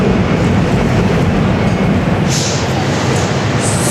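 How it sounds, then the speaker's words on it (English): A train rumbles across the Manhattan Bridge directly overhead, a loud, steady broadband roar with rail clatter and brief high wheel squeals near the end, with no speech. "Sorry about the train. We're actually literally underneath the Manhattan Bridge."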